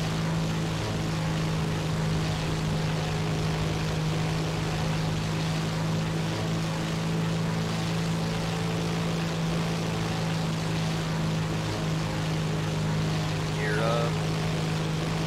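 The twin engines of a Tupolev ANT-40/SB bomber in War Thunder drone steadily and loudly during takeoff, a constant propeller hum with a deep, even tone throughout.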